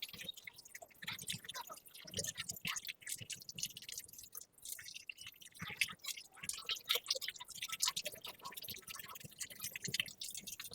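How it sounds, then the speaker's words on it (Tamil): Water poured into a washing machine drum during cleaning, a close, wet trickling and splashing with dripping and squishy liquid sounds running steadily throughout, no talk over it. "இப்போ தண்ணி ஊற்றுவோம்."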